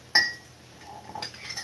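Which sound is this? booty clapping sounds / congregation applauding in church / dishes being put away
dishes being put away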